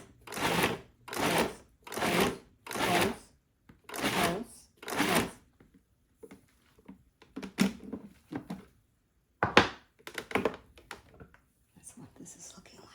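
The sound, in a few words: appliance pulsing cranberries for raw cranberry sauce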